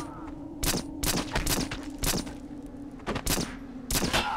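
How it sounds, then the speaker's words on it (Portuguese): Pistol gunfire in the shooter game Black: about eight sharp, loud single shots in an uneven rhythm, with a steady low hum of the game running underneath. "Vou usar um pouco a pistolinha, vai."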